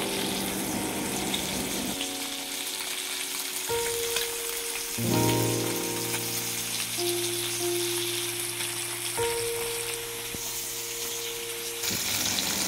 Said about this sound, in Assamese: এনেকৈ প্ৰথমতে মাছকেইটা অকণ হালধি সানি ফ্ৰাই কৰি ললো